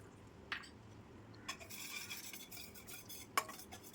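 Semolina (rava) roasting in melted ghee gets stirred in a pan, with faint scraping and light clinks of the spoon against the metal, quiet and close over a soft background hiss.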